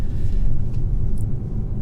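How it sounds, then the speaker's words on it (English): A 2022 Genesis GV70 Sport Prestige brakes firmly with slight ABS vibration, heard as a steady, dense low road-and-cabin rumble throughout, with no voices. "It's pretty good braking. It's very smooth. Smooth, a little bit of vibration from the ABS, but firm."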